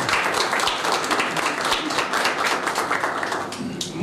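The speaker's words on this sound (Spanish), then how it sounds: "Vamos a dar un aplauso a ustedes." An audience claps at a community event for microcredit recipients. The applause is dense and continuous, fairly loud, with a scattered, crackling texture and no clear speech over it.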